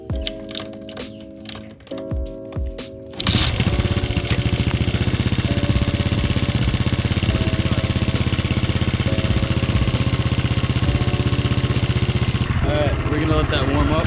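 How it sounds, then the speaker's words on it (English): A Honda C250 motorcycle sits in a driveway. A few clicks and sputters come first, then the engine catches and settles into a loud, steady, close idle that runs unbroken to the end. "I haven't started this bike up in a while"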